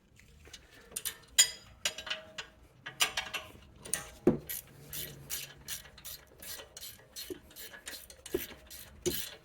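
Ratchet wrench clicking in quick bursts while tightening a rear brake caliper bolt on a 2011-2017 BMW X3 F25, close and moderately loud, with a few short metallic clanks between the ratcheting passes.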